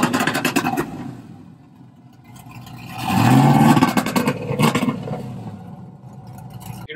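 A 500hp SS clone car with a 4-inch K&N intake, LS3-style heads and a two-step tune, revving loudly nearby with a surge near the middle, then choppy bursts and pops as the limiter holds it.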